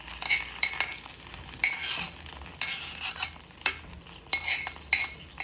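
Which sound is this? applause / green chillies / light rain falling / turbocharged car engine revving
green chillies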